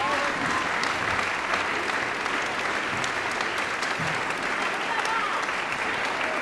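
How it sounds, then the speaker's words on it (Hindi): Sustained audience applause at a Hindi poetry recital (kavi sammelan) in Noida, a dense steady clapping from a crowd filling the whole stretch with no speech over it. "तालियां आप लोग जरा"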